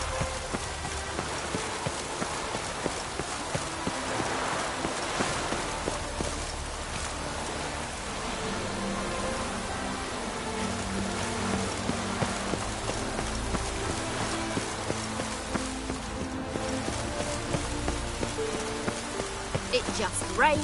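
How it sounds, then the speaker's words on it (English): Steady rain pours in the Witcher 3 game world around Novigrad, a dense continuous hiss layered with music, clip-clopping hooves and other ambient game sounds at constant loudness throughout. "It just rains and rains."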